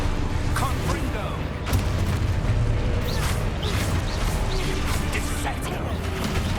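A Confringo fire spell blast in the Hogwarts Legacy video game, one of a rapid run of spell effects, with bursts and crackling impacts layered over a busy game soundscape and a voice calling out spells.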